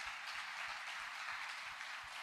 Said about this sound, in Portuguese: E eu queria pedir à igreja mais uma vez que desse uma linda salva de palmas em homenagem às nossas mamães